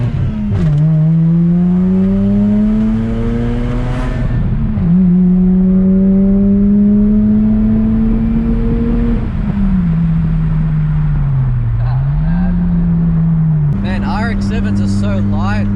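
A Mazda RX-7 idles close by and then revs repeatedly, its engine note climbing, holding and dropping through several pulls before settling back to a steady drone, with someone talking over it.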